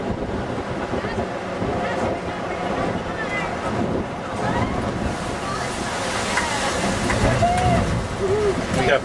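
An amphibious duck boat plunges into Lake Delton, a broad rush of water and wind noise swelling across the whole stretch with faint whoops and voices mixed in.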